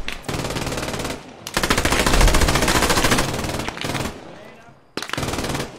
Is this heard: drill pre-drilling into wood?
no